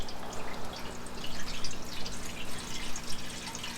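About a quart of MEK poured into a sticky truck fuel tank, a steady close splashing, gurgling liquid flow with small drips, with no talk.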